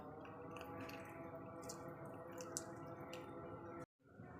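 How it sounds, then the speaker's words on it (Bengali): Lemon juice drips into boiling milk to make chhena, giving faint, soft drips over a steady low bubbling and hiss of the simmering pot, with a brief cut to silence near the end. "এবার একটা লেবুর রস দিয়ে দিই"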